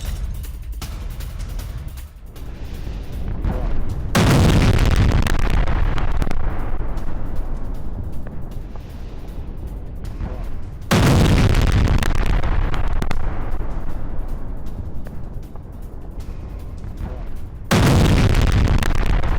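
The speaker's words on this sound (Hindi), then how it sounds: "खार्किव से लेकर ओडेसा तक रूस का बैलिस्टिक मिसाइल हमला" Russian ballistic missile strikes on Ukrainian cities hit with massive, roaring explosions, three heavy booms that each swell into a long rumbling wash. The blasts are loud and fill the whole stretch with sustained low noise.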